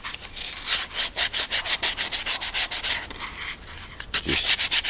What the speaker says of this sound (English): Just sand the edge.